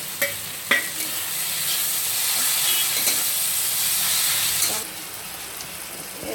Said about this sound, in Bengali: এখন টমেটোটা আর কাঁচা লঙ্কাটা দিয়ে দিতে হবে